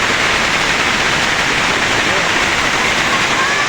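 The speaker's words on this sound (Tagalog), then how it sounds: "Ulan. Okay, bagyo talaga, bagyo." Steady, dense hiss of heavy typhoon rain pouring down, loud and continuous with no breaks.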